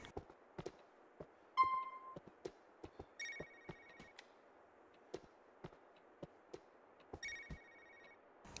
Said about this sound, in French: Quelqu'un peut répondre au téléphone